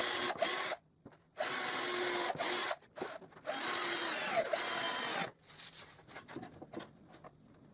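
Screws being driven into a wooden stop block on a plywood router jig, in several bursts of steady whirring from a close-up power driver separated by short pauses, with lighter knocks and shuffling toward the end.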